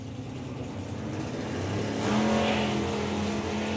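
Outlaw Anglia drag race cars launch down the strip at a drag racing summer nationals meet, their engines building into a rising, sustained roar heard from a moderate distance.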